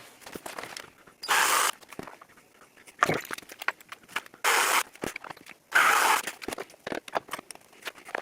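Several short bursts of drilling with a 3.5 mm drill bit while refurbishing an accordion, each a second or less, separated by quieter clicks and handling noises.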